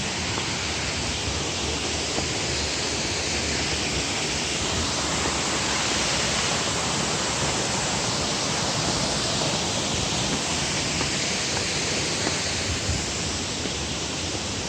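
The second waterfall of Cheonjeyeon in Seogwipo, Jeju, pours in a continuous, even rush of water, a broad steady hiss heard from a moderate distance without talk.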